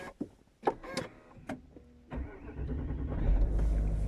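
A Range Rover starts off on a test drive after a gearbox oil change and mechatronic replacement: a few clicks and thumps, a short whirring, then the engine and road noise swell steadily, quiet and close inside the cabin.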